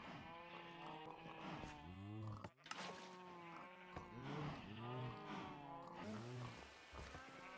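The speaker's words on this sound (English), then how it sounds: "I'm sure I have more cows in this barn." Cows mooing in a barn in the Minecraft video game, a run of repeated drawn-out moos in a steady rhythm, fairly loud and close, with no talking over them.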